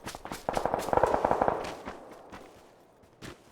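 Rapid bursts of video game gunfire crackle in quick succession, then thin out to scattered single shots trailing off into the distance.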